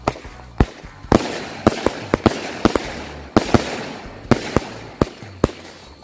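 A Wonderful Cake 49-shot firework cake fires during a Takbiran night celebration, a string of sharp loud bangs at irregular intervals, some in quick pairs, with crackling tails between them and no voices.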